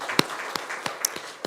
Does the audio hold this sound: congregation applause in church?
yes